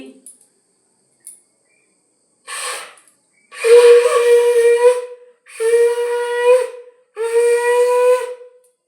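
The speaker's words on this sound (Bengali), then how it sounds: "শঙ্খ বাজিয়ে দিচ্ছি" A conch shell is blown during a puja at a temple. Three long, loud, steady blasts follow a few short tentative puffs, with brief pauses between them.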